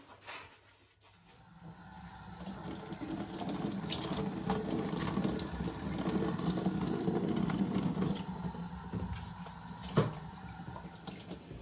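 Steady running tap water splashing into a sink as porcini mushrooms are rinsed, continuous and fairly close, with small clatters and one sharp knock near the end.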